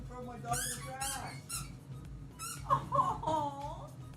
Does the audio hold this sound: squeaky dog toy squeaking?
yes